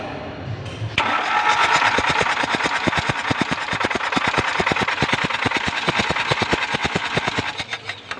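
A Toyota Hilux with a 2GD engine turns over and settles into a running idle, with a rapid metallic rattle from a loose timing chain tensioner ticking steadily over the engine drone. The sound is loud and close, with no talking.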